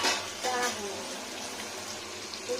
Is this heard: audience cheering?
no